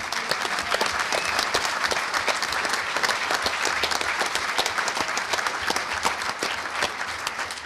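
Sustained audience applause at a hacker conference's closing ceremony, a dense steady clatter of many hands clapping throughout with no gaps, filling the room at an even loudness.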